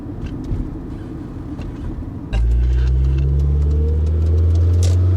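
Honda Concerto 1.4 driven around town: a faint cabin rumble gives way to a loud, steady low engine drone that firms up as the car pulls away, with no talking.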